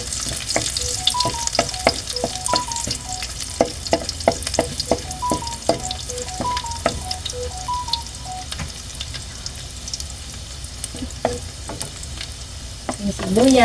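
Garlic sautés in a frying pan still oily from earlier frying, a steady close sizzle broken by repeated clinks and scrapes of a utensil stirring the pan.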